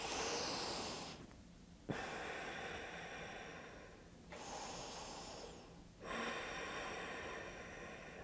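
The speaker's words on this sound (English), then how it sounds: "Keep breathing in and out through the nose as evenly as you can." Slow, even breaths in and out through the nose during a gentle beginner yoga session, heard close and soft as several long, airy inhale-exhale cycles with brief pauses between them.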